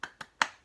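Rhythmic hand clapping for a classroom cheer: three sharp, close claps, the first two quick together and the third louder after a short pause, with no talk.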